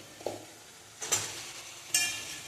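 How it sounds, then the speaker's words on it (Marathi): Drumstick pods dropped into hot oil while sautéing for a curry, giving a faint frying sizzle with three short bursts of stirring and utensil scraping. "त्याच्यामध्ये मी आता शेवग्याच्या शेंगा टाकते"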